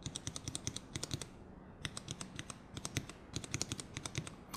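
Quick bursts of typing on a keyboard with Cherry MX Red switches, soft, light key clicks, close up, pausing briefly before resuming.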